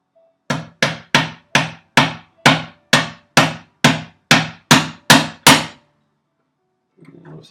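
Twelve sharp metallic hammer strikes drive a pin in with a punch, evenly spaced about half a second apart, close and loud, followed by silence and a faint rustle.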